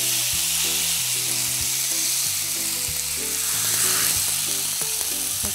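Marinated chicken pieces frying in a hot pan give a steady, close sizzle with crackling spatters throughout, loud and continuous with no talking.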